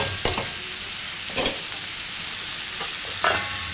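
Turmeric and salt being stirred into food frying in a pan, a steady close sizzle broken by three or four sharp scraping stirs of a utensil against the pan.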